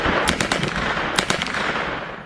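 Rapid bursts of gunfire from a shooting outside a recording studio in Chicago at night, dense sharp cracks clustered in two volleys over a continuous noisy background, loud and close.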